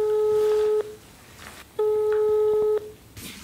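Outgoing call on a mobile phone placed by voice assistant: a steady ringback tone sounds twice, each burst about a second long with a pause between, clear and close with no talking.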